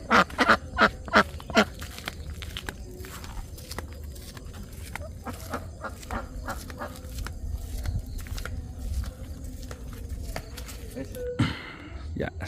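Ducks being carried in a car quack in a quick burst of loud calls at the start, then scattered quacks continue over a steady rumbling engine and people talking.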